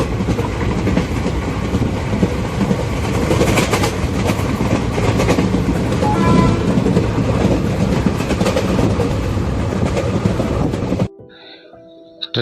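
Loud, steady roar and rattle inside a moving passenger train's crowded general coach on an Indian railway journey, with continuous rumbling and clatter that cuts off abruptly near the end.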